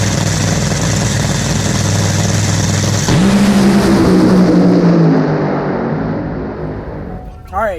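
A drag race car's engine idles roughly, then roars loudly as the throttle is stomped and it pulls away, the pitch climbing and the sound fading into the distance, with crowd and track noise around it.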